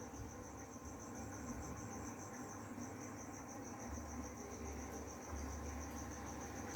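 A Thai kite's humming bow string gives a faint, continuous high whine with a gentle pulsing, heard far off over quiet outdoor background noise beside a fish pond.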